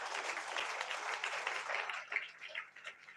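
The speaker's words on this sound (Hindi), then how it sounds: "ताली बजाइए परमेश्वर के लिए।" A Sunday church congregation applauds, a thick, continuous wash of clapping from many hands, moderately loud and even, with a few individual claps popping out near the end.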